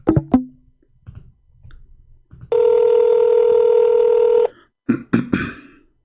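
A few sharp dialing beeps, then a long steady ringback tone lasting about two seconds, followed by more clicks and short tones as the call connects.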